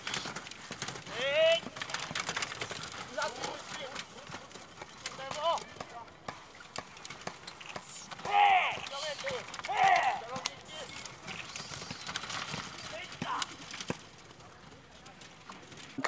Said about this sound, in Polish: Znajdujemy się na trasie przejazdu maratonu zaprzęgowego podczas 26 dni huculskich.